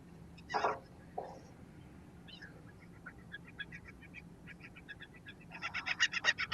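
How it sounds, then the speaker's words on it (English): Seagull calls, faint and somewhat distant, a couple of isolated cries and then a rising series of rapid squawks growing louder toward the end over quiet background. "Shut up, stupid seagull."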